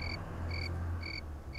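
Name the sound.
crickets chirping outdoors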